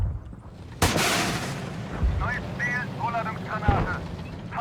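In the PC video game Gunner HEAT PC, a tank cannon fires one sudden, loud blast that rolls into a rumbling tail, with a voice speaking over the aftermath.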